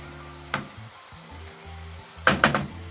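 Kibbeh (ishli kufta) filling with crushed garlic frying in a pan, a soft continuous sizzle broken by a few sharp clinks and scrapes of a utensil against the pan.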